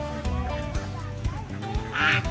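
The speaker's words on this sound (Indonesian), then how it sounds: "Ni besar itiknya" Ducks quacking nearby, with a louder burst of calls near the end, mixed with some background voices and outdoor noise.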